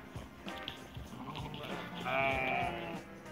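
Sheep and lambs bleat on a farm during mating season, with a loud, wavering bleat rising near the end over a busy background of shuffling and other faint animal noise.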